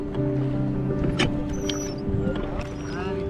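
A motor boat rumbles steadily on Naini Lake in Nainital during a boat ride, a close, continuous engine drone with faint water and background sounds throughout.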